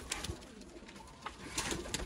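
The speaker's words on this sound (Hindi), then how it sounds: "ये पूरे का पूरा जोड़ा ये बड़ा कबूतर है" Soft, low pigeon coos repeat through a faint ambient background, with a few brief rustles.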